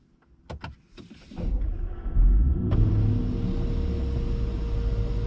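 A Range Rover SVR with an aftermarket exhaust starts up after a few clicks and a door thud, cranking into a loud, deep rumble that settles into a steady, close idle.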